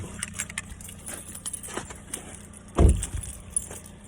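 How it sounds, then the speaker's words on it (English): Car keys jangle briefly as they are pulled from the ignition of a vehicle whose engine is being held running by a Viper DS4+ remote start system, a short metallic rattle over a quiet idling hum. "I can take the keys back out"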